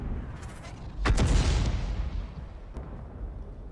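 A single heavy artillery boom from a 105 leFH18B2 in a tank video game fires, followed by a rumbling tail that fades, with a faint sharper crack a moment later.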